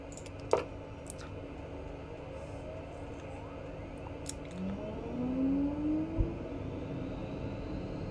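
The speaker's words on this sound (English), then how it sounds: "get our engine started up" The engine of a simulated Beechcraft King Air 350 turboprop in X-Plane 11 spools up with a faint, steadily rising whine over a low background hum, joined by a few soft clicks.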